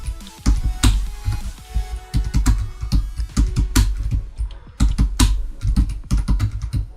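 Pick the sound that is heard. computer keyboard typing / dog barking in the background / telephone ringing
computer keyboard typing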